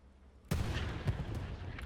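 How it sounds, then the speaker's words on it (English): Tank cannon fire between a Panzer IV and a Sherman in the Hell Let Loose video game: one sudden heavy boom that rolls into a sustained low rumble, with a fainter second thump shortly after. "Panzer IV fires one round into the back of the Sherman."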